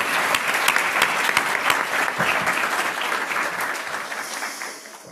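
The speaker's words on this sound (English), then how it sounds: "Round of applause for everybody." A room full of people claps steadily for several seconds, the applause loud and dense before thinning out at the end.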